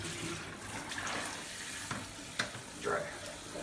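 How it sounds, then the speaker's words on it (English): Sprouting fodder seeds for rabbits and chickens swished by hand in water, a quiet continuous watery sloshing with a few small splashes near the end. "And then I just rinse these well, swishing them around by hand"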